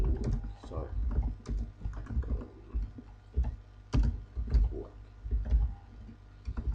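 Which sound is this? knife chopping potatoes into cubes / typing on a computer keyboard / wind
typing on a computer keyboard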